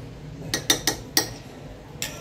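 A spoon against a bowl while custard apple rabdi is mixed, five or six sharp, close metallic clinks at uneven intervals with quiet pauses between them, and no talking.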